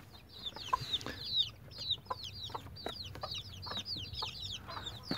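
Four newly arrived chicks and hens at their first feeding, a busy stream of rapid, high, thin peeps layered over occasional low clucks, close by and without talk.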